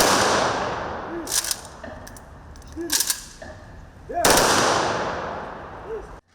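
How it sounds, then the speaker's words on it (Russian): At an outdoor memorial rally in Komi on the Day of Remembrance and Sorrow, soldiers fire a triple volley of blank rifle shots into the air. Three loud, sharp cracks come about one and a half seconds apart, each leaving a short echoing tail. "Троекратный холостой залп в воздух во время минуты молчания."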